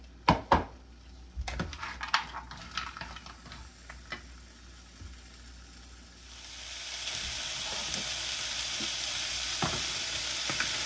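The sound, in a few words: okra being sautéed in a pan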